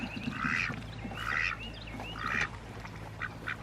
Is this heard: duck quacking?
yes